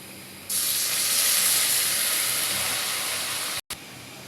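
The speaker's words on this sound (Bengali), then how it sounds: "এই যে পেঁয়াজটা এইভাবে ভাজা নিচ্ছি এখন পানি দিয়ে দেবো একটু" Water is poured into a pan of frying onions, and a loud hiss of steam bursts up suddenly and holds steady for a few seconds before a brief cut near the end.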